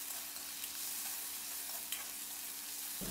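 Chicken and squid sizzle loudly and steadily in a hot wok, with occasional scraping clatter from stirring and no voices.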